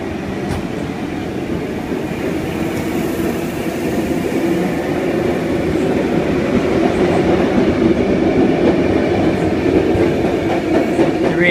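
A Sydney Waratah passenger train rumbling and clattering along the rails at night at Chatswood station, growing steadily louder over several seconds as it pulls away from the platform, no voices.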